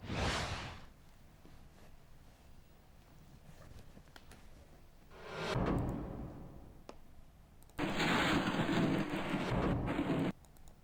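Rain falling in Lahore, a broad steady hiss that swells in waves and turns into a louder, dense downpour for a few seconds near the end, with no voices.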